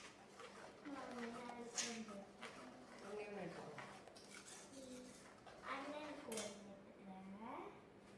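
Boiled pasta is tipped into a bubbling creamy, cheesy sauce in a cooking pan and stirred, giving soft clinks and scrapes of a utensil against the pan beneath steady nearby talking.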